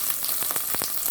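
Garlic sizzles in a hot pan, the opening step of a Chinese-style bok choy and kale stir fry, giving a steady close frying hiss broken by a few brief crackles and pops.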